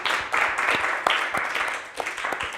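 An audience applauds Clover, an adopted dog from a humane society, at a live talk show. The clapping is dense and fairly close, sustained, with a few sharper claps standing out.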